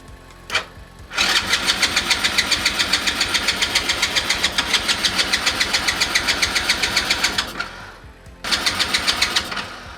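A car engine is started on a quad repair job, cranking briefly, then catching into a loud, rapid, rhythmic running beat that stops, then restarts near the end.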